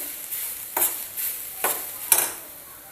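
Grated coconut is stirred while roasting in ghee in a pan over medium heat, with four or five soft scraping strokes over a faint background hiss.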